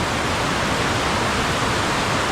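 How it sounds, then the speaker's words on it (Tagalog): Steady broadband roar of a waterfall on a river trek in Cagayan Valley, loud and close, with constant rushing water filling the whole clip and no voices. "Yung waterfalls mga suki."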